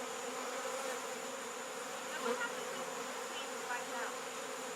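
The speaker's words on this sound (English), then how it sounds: "She flies out, the bees fly out with her." Honey bees buzzing around a propane tank, a dense steady drone from many insects at close range, continuous and even with slight swells, no talk.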